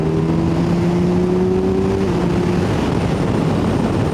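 A Kawasaki Ninja 1000SX with an Akrapovic exhaust cruises on a highway just under 70 mph at about 5,000 RPM, a loud, steady engine drone with a slowly shifting tone, mixed with heavy wind rush.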